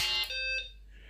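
A BBC Micro Model B running on a USB power supply replacement gives its startup beep, a short bright electronic tone that is loud and close and fades away in about a second.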